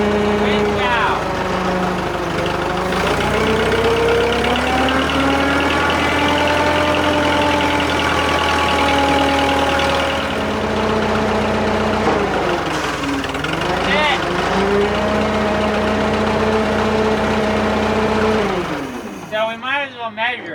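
Drott 85RM2 crane engine running while winching out during a furnace lift, a loud steady diesel drone whose pitch rises and falls with load, with a voice shouting over it near the start.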